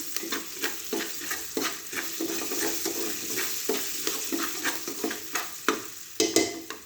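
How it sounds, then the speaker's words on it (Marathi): Sorghum grains being stirred in a dry pan on a low gas flame, a steady rhythmic scraping and rustling repeating about twice a second, close by with no voices. "आपल्याला जेवारी चांगली हलवायची आणि गॅसची फ्लेम लव ठेवायची"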